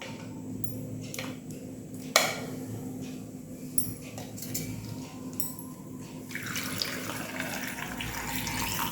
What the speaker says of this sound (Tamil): மூழ்கிற அளவுக்கு ஊற்றி வச்சுருங்க.